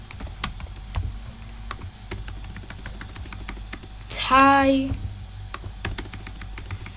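Python code is typed on a computer keyboard in quick, uneven bursts of close key clicks, with a short pause and a brief whirring, warbling noise in the middle before the typing resumes.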